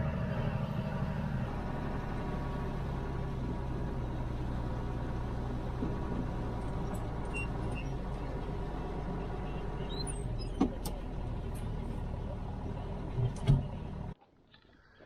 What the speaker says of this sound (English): Lorry's here, he's just going to back up under the spout so I can load him with wheat